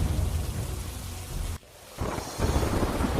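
Heavy monsoon rain pours down with deep rumbling, briefly dropping away in a short gap before the downpour returns loud and dense.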